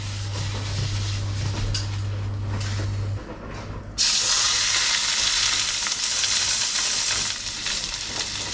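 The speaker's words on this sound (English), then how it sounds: "We'll get the pan on and get it cooking." Black bream frying in a pan over moderate heat makes a steady, fairly loud sizzle and hiss. A low hum fades partway through, and the frying grows brighter and stronger for the last few seconds.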